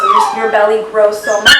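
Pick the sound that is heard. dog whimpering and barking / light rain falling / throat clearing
dog whimpering and barking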